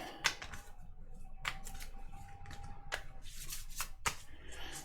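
Tarot cards being shuffled by hand, soft papery riffles and sharp flicks repeating at irregular intervals, close and fairly quiet.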